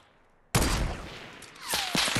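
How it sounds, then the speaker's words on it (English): Sniper gunfire in the battle royale game Fortnite: a sudden loud shot cracks in after a short quiet stretch, with a whizzing pass-by and a couple of sharper follow-up reports trailing off near the end. "Whoa, okay, we're getting sniped at."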